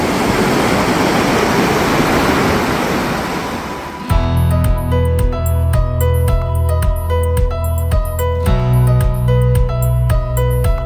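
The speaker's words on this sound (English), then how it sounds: "it's that hot water coming down into the river." Hot water cascading into a river near Yellowstone makes a loud, steady broadband rush for about four seconds, then a layer of music with strong tones and beats covers it.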